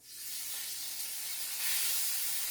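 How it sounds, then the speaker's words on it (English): An arepa patty dropped into hot oil sizzles and hisses steadily from close by, the bright frying noise swelling slightly louder partway through with no talking. "And then you put it in the hot oil."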